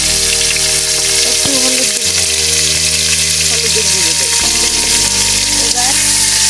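Potatoes sizzling loudly in hot oil in a village kitchen pan, a constant near frying hiss with stirring, while someone speaks briefly over it.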